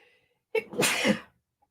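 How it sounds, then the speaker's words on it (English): A single loud sneeze after a short quiet pause, close to the listener. "I'm trying not to sneeze"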